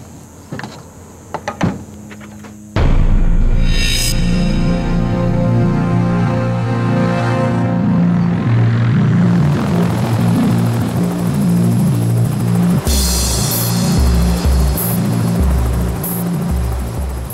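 Helicopter working close to a half-million-volt power line structure, its rotor chop and turbine loud and steady after a quiet start with a few knocks, thumping continuously and near for most of the span.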